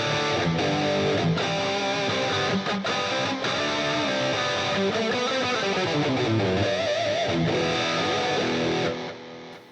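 Distorted electric guitar played through HeadRush stereo delay and reverb, sustained chords and a bending melodic line with echoing tails, loud and continuous, fading out at the end.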